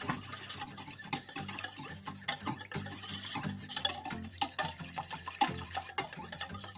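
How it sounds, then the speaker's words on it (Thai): A flour-and-water batter for crispy fried mussel pancake is stirred in a bowl, giving a continuous run of soft scraping and quick clicking taps of the utensil against the bowl, close and fairly quiet, with no talk. "แล้วก็คนให้แป้งละลายดีนะคะ"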